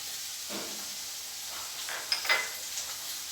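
Green chillies drop into hot oil already holding crushed garlic and ginger, giving a steady soft sizzle with brief stirring, and the sputter rises near the end.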